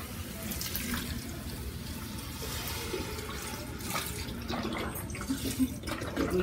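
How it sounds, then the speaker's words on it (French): Vegetable broth poured into a pot with potatoes for a cold carrot, leek and apple soup, a continuous splashing, gurgling pour close by that grows slightly fuller toward the end, with no voices. "Et je verse le bouillon de légumes."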